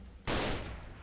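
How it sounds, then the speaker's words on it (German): A single loud gunshot bursts out in the police video game Notruf Hamburg, sharp and close, then trails off in a rough decaying echo. "Ich höre auch schon direkt Schüsse."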